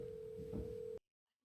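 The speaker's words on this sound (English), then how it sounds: "we need to make a phone call" A telephone call's ringback tone sounds as one steady, loud electronic tone lasting about a second, then cuts off to near silence.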